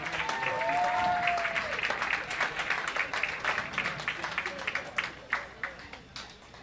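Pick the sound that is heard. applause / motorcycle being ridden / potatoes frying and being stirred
applause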